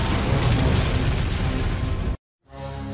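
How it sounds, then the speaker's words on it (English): A huge magical explosion from a cartoon pony battle, where two clashing magic beams erupt: a loud, dense roaring blast sustained for about two seconds, cut to sudden silence, then a fainter rumbling tail with a rising shimmer at the end. "the beams erupted into a huge magical explosion"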